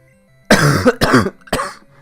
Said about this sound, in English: I'm going to start coughing at like any second because